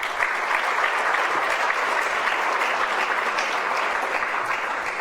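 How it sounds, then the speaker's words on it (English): An audience at the HLG Esperanza Awards ceremony applauds, steady dense clapping filling the room at an even level from start to finish. "Applause for those folks as well."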